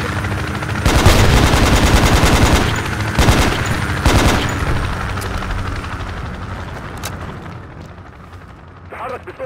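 Rapid automatic gunfire bursts and scattered shots rattle loudly during a Project Reality Battlefield 2 battle as fire is aimed at a Humvee. Repeated bursts come over a constant rumble, with voices talking now and then.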